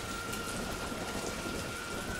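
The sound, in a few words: rain falling at a mountain monastery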